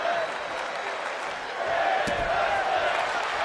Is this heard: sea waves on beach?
no